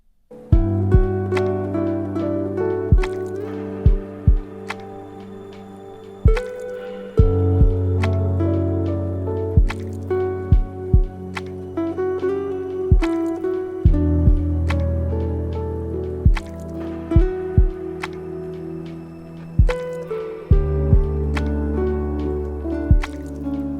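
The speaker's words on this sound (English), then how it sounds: "you can hear the guitar sounds all together sounding so good" Mellow lofi guitar melody with soft plucked notes ringing out in reverb, backed by a steady beat with crisp percussive hits.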